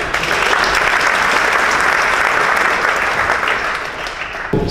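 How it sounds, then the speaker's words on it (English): Warm, loud audience applause at a TEDxRotterdam event, continuous dense clapping from a large crowd that tapers off just before cutting out. "A warm applause for Arun from Nederland"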